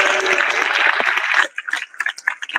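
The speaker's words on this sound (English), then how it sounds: "So let's give them a big round of applause." A convention panel audience at New York Comic Con applauds, a loud burst of clapping for about a second and a half that then thins into scattered fading claps.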